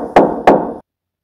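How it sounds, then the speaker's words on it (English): Two sharp, loud knocks on a door land close together, about a third of a second apart, each with a short hollow ring, followed by sudden silence. "Knocking? What the fuck?"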